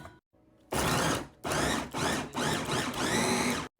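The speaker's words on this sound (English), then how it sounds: "I'm going to let the food processor chop them up" Food processor chopping onions for loaded baked potato soup, several loud motor bursts in quick pulses, each a harsh whirring roar separated by brief gaps, close to the microphone.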